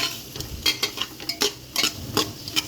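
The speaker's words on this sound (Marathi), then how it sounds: "त्यानंतर मी इथे 1 चमचा गरम मसाला टाकून छान 1 ते 2 मिनिटं आणखीन परतून घेत आहे।" Vegetable biryani mix with garam masala being sautéed in a pan over a medium flame, a spoon stirring and scraping in irregular strokes over a soft, steady sizzle, close and moderately loud.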